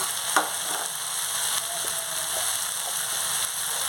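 Ground coriander and cumin powder frying in a pan for a brined raw jackfruit palya, with a steady close sizzle and scraping stirring strokes, no talk.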